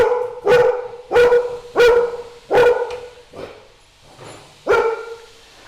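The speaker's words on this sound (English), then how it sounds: "Again, never mind the dog," A dog barks loudly and close by, six sharp barks in an uneven rhythm with a softer one among them, heard alone beside a 1976 Ducati 900 Super Sport motorcycle.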